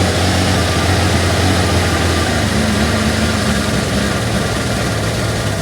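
An engine runs steadily, a loud, continuous low rumble that holds unbroken as it settles into idle.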